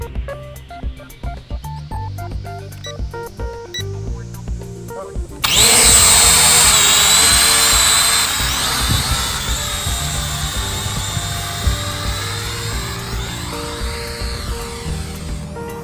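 An E99/K3 toy drone's propellers spin up suddenly to a loud, high-pitched whine that holds steady and close, following a few seconds of background music.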